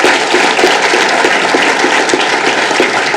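An audience at Marquette Law School claps steadily to welcome Milwaukee Bucks president Peter Feigin as a guest speaker, a dense, even roar of many hands at close range with no talk over it.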